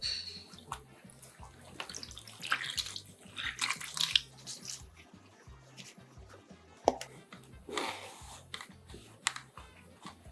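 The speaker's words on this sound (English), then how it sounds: "Take a basin and wet the flannel" A flannel cloth being wetted in a basin of water for sprouting beans: soft, close splashing and sloshing with dripping and light handling clicks, fairly quiet and irregular, no talking.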